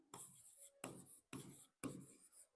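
Marker writing numbers on a board, four separate strokes of scratchy squeaking, each lasting about half a second with short pauses between, close and faint in a quiet room.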